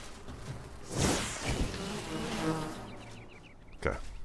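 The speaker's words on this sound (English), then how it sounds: "Oh, bees." Bees buzzing in the video game Enshrouded, a dense insect drone layered over game ambience with a few louder swells and sharp game sounds, no talk.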